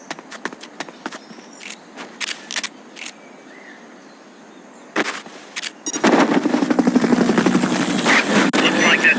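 Helicopter in Metal Gear Solid Peace Walker, sparse clicks and taps at first, then a loud sustained rotor chop that swells up abruptly and holds to the end.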